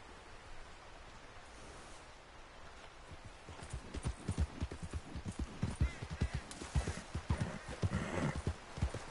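A horse's hooves clip-clop in the video game Red Dead Redemption 2, starting quiet and soon growing into a loud, fast, rhythmic gallop, with a soft rain-like hiss running beneath.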